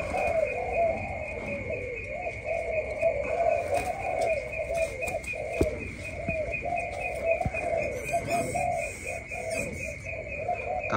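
Large pigeons kept in Kien Giang coo steadily and close by in repeated rolling phrases, alongside a constant high whine and occasional sharp clicks, with no voices.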